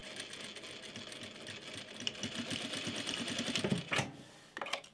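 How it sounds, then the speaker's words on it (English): A sewing machine stitching over an elastic seam on a shorts waistband, a fast rattling run of needle strokes that builds and then stops briefly before a short final burst, close and fairly loud. "I just sewed over my seam in the elastic so that it lays nice and flat"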